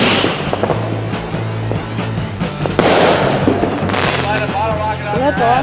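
A fireworks mortar explodes close to a GoPro outdoors, a loud burst of sharp cracks and bangs over a steady background rumble, followed by more crackling pops; voices are faintly present.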